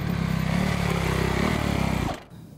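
A Kawasaki KX250F or KX450F motocross motorcycle engine runs loud and steady with a low, buzzing drone, then cuts off abruptly near the end, leaving quiet.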